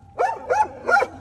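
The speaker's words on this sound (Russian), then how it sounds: "Аккуратно, собака может куснуть." A guard dog near a metro shaft barks three times in quick succession, loud and close, with a fourth bark starting at the end.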